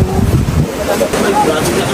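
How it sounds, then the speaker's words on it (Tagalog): Strong typhoon wind roaring outside during a storm, a loud continuous rushing buffet with low rumbling gusts and microphone wind noise, voices talking over it. "Grabe po, lakas ng hangin sa labas."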